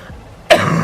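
A single sharp cough bursts out close to the microphone after a moment of quiet, loud and abrupt with a rough, throaty tail.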